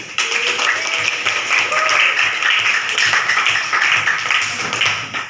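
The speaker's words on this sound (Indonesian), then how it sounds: "Oke, tepuk tangan." A classroom full of students breaks into a burst of hand clapping, a dense, steady patter of many claps lasting several seconds at close range with no talking over it.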